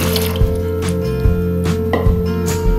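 Water is poured into the pan of a bread machine, giving close, soft splashing and dripping with a few small sloshes and knocks.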